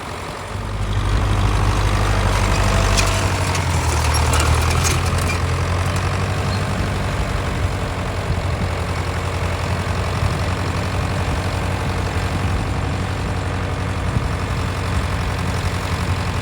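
A John Deere 500A/3020 diesel tractor, left sitting over ten years, runs steadily with a loud low rumbling idle and a rattly mechanical clatter, the engine note holding constant throughout.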